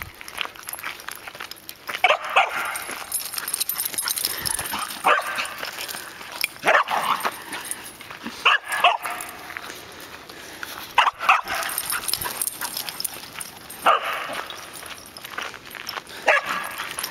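Dogs bark repeatedly in uneven bursts, close by, with a few yips and whimpers mixed in and outdoor noise in the background.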